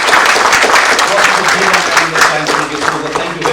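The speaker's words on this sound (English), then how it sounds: "give a thumping applause to the speakers before me" An audience at a PackMach Asia Expo roadshow and panel discussion in Mumbai applauds the speakers, loud close clapping mixed with voices and a humming tone underneath.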